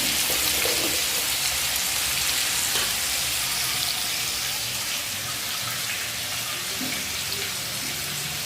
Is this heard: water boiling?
yes